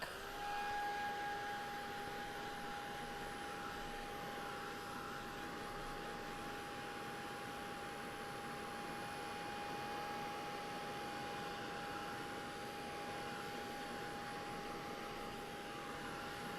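A hair dryer runs steadily on a farm while drying something, a continuous whirring blow with a faint high whine that stays at even loudness throughout, with no voices.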